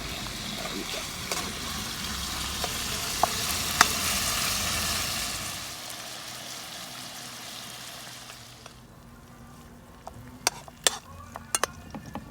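Ingredients fry in a pan until crisp on both sides, a dense close sizzle that fades out partway through and gives way to a few sharp clicks and taps.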